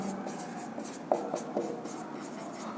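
A pen or pencil writes a definition by hand, giving faint scratchy strokes and small taps in a quiet room, close but soft, with no talk.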